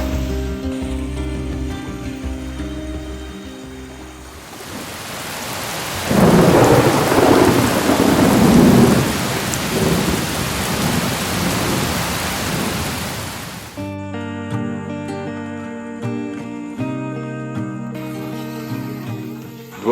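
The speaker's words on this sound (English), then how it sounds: "We had a couple of rainstorms that can best be described as tropical thunderstorms" Heavy tropical downpour on a deserted island, a dense steady roar of rain with rolling thunder swelling loud in the middle before easing back to hissing rain.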